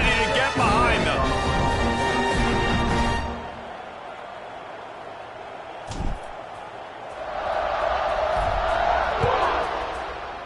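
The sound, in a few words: football stadium crowd cheering before kickoff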